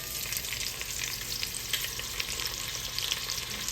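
Sausage frying in a pot for Cajun shrimp and sausage pasta, a steady close hiss of sizzling fat with small pops throughout and no talking.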